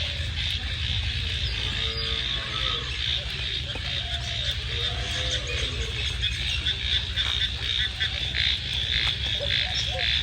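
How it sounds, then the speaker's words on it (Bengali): Frogs croak loudly and continuously in a rainy village, their calls overlapping in a dense chorus over a steady rain hiss. "এখানে হলো ব্যাঙের ডাক"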